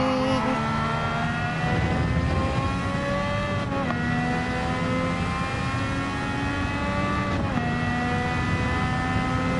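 A 1965 race car engine at high revs in a racing game, with a grunting low drone under a high-pitched electronic whine; tones rise steadily, then drop sharply at two gear shifts, loud and continuous.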